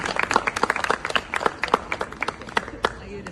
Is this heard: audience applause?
yes